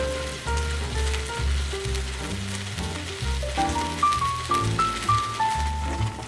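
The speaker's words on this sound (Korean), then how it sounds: "가자미를 구운 지 10분 정도 되었어요." Flatfish (gajami) grilling in a pan gives a steady, close frying sizzle with light crackle, lasting throughout beneath tonal background music.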